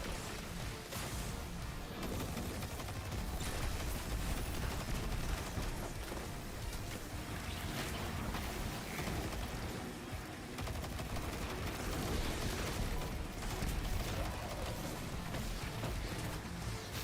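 Dense barrage of explosions and rapid gunfire from Quicksilver grenades in Destiny 2, a loud continuous roar of blasts and crackling shots with no pauses across the whole stretch.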